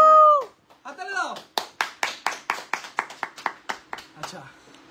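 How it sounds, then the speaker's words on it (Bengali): A short voice gives way to a steady run of about a dozen evenly spaced hand claps, close and fairly loud, cheering the winner of an iPhone 16 giveaway. "হাততালি দাও।"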